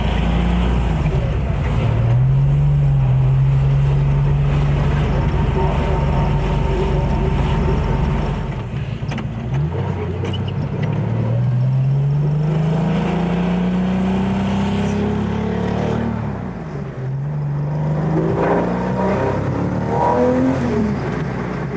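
A 1985 Porsche 911 RUF Twin Turbo roars loudly from inside while driving, the engine climbing through several rising revs with brief drops between gear changes.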